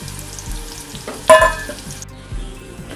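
Onions dropped into hot oil to fry crisp for garnish, a short close sizzle with a sharp clatter near the middle and quieter bubbling after.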